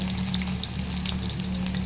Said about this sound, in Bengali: আর এখন আমি কড়াইতেই মাছগুলো দিয়েছি